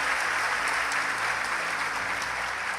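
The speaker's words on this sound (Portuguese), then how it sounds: "Hoje é o dia que você está aplaudindo ao Senhor" A church congregation at a Palm Sunday service applauds in a dense, steady wash of clapping that holds loud and even for a few seconds.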